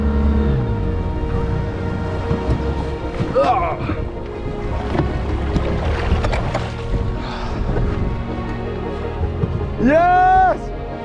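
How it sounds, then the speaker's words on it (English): A small 4-horsepower outboard engine drives a boat across open sea, a steady droning hum mixed with wind buffeting the microphone and water noise, with occasional voices over it. "I'm about to pull out the engine."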